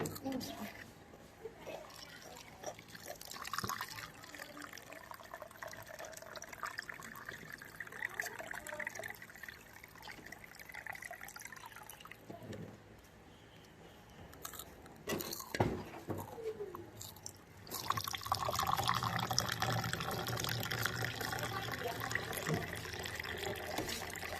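Salt water brine is poured while cooking Lao-style spicy pounded noodles, with faint trickling and splashing under ongoing talk and a louder burst of liquid near the end.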